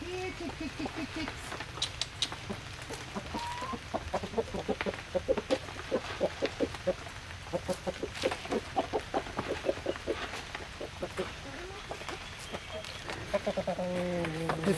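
Several big hens cluck and squabble over Grubterra insect treats, with rapid, rhythmic clucking close by that rises and falls throughout, while a person speaks softly in the background.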